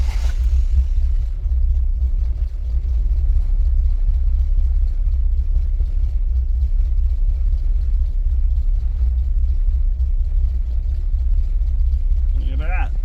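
A cold 1983 Toyota Tercel wagon engine with no choke starts and settles into a steady, rough, loud idle close by, with voices heard briefly near the start and end.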